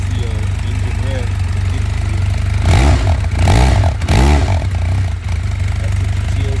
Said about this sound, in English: since you boys, paint girls, love to see an engine rev